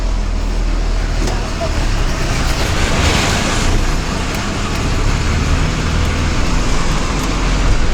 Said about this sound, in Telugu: తెనాలి తిప్పలకట్ట బస్సు బయలుదేరింది.